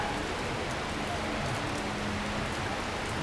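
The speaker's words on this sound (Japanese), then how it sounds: "雨が本当にね、断続的に強く降ったり弱く降ったりしてきてるんですけど" Rain falls on a Tokyo street between Ikebukuro and Otsuka stations in August, a dense, steady hiss of drops on pavement and surfaces that stays constant throughout, with no voices.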